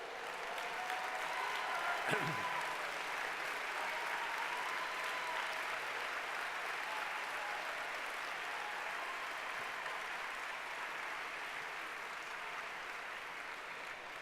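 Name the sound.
round of applause for veterans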